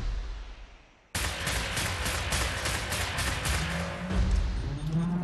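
Rapid automatic gunfire in the shooter game Wolfenstein: The New Order, a sudden dense burst of rhythmic shots that keeps on steadily, loud, with low rumbling game sounds underneath and no voices.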